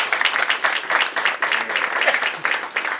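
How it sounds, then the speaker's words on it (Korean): Applause from an audience at an office opening ceremony, steady and moderately loud clapping that fills the whole moment without a clear rise or fade. "와 하고 박수 한번 쳐주시죠"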